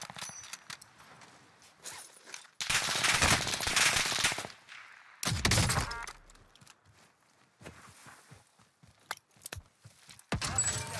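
Gunfire in a shooter video game: loud bursts of rapid automatic fire in two long volleys, with scattered single shots and clicks between them and a final burst at the end, and no talking.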